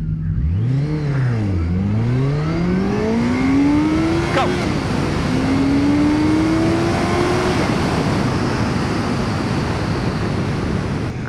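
A Honda CBR1100XX motorcycle accelerating hard from a standstill on a closed road, engine note climbing through several gear changes under heavy wind rush, loud and close throughout.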